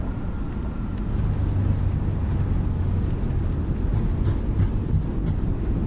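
Touchdown of an A320 airliner (FlyByWire A32NX) at Rzeszów in Microsoft Flight Simulator, with a steady loud low rumble of wheels rolling out on the runway continuing throughout, with no talking.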